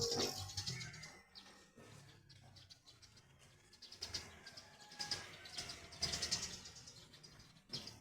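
Sparrows chirp and tweet in short, scattered bursts at a moderate distance, with some cooing and rustling mixed into the background.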